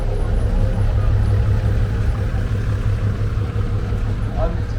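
Bristol VR vintage double-decker bus with a vertical rear engine, once used on Oxford to London express services, running at a steady, loud low rumble throughout, close by at a vintage and country show.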